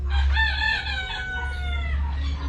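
A rooster crows once, close and clear, its call rising and then trailing off, followed by a soft cluck.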